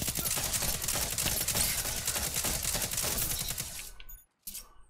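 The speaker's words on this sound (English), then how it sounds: "I quite like this auto rifle" Rapid auto rifle gunfire in Destiny 2, long sustained bursts of fast, evenly spaced shots, loud and close, cutting off abruptly near the end before a brief final burst.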